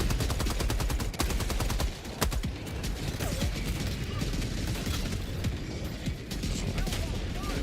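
Rapid automatic gunfire from a chaotic Helldivers 2 battle on the hardest difficulty against the Illuminate, dense bursts of shots stacked over booming explosions and mechanical game effects, loud and continuous throughout.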